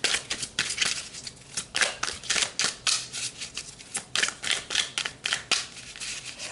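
Tarot cards shuffled by hand in quick repeated riffles and snaps, a brisk rhythmic flutter of crisp taps close up, with no talking.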